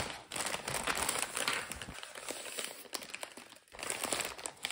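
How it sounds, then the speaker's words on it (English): Bubble-wrapped crystals are pushed into a packing envelope, giving close, fairly quiet crinkling and rustling of plastic and paper in uneven bursts with a couple of brief pauses. "we will put this in an envelope"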